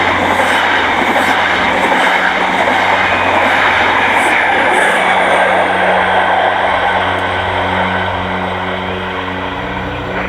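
An Intercity 125 HST train runs steadily and loudly, a continuous rumble of engines and wheels on rails with faint clickety-clack, sustained throughout with no speech.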